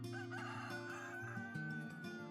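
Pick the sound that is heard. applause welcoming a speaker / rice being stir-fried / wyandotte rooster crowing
wyandotte rooster crowing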